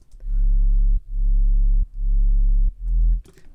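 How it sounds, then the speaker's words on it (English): Pure sine-wave sub bass from a chillstep EDM drop plays as four long, loud, smooth low notes separated by brief gaps, with no sharp edges and nothing else heard. "Pure sub bass is always going to be that sine wave"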